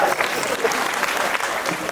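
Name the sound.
audience applauding at a Marathi kirtan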